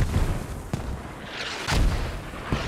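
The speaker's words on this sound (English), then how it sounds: "Mortars are dropping around the OK, but they're just short." Mortar shells burst in a military shooter on the Gorodok map. Two or three heavy booming impacts land nearby over a rumbling battlefield.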